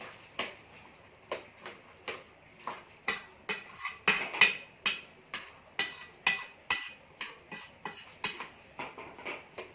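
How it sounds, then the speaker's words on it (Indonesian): A metal spoon stirs washed banana mixture for beghukbus, a traditional Lampung dish, in a bowl, making a steady series of sharp clinks and scrapes that repeat roughly every half second, close and clear with no speech. "Untuk proses pengadukannya bisa menggunakan sendok seperti ini."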